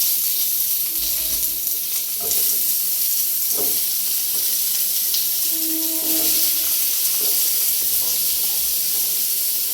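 Long potato strips frying in a pan with a spice tempering, a loud continuous hissing sizzle with a few faint clinks of the utensil, close up and with no voices.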